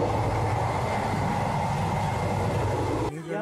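Kanchanjungha Express on the New Jalpaiguri to Sealdah run, a dense, steady rumble and roar of the moving train heard from inside a sleeper coach, loud and continuous before cutting off abruptly near the end.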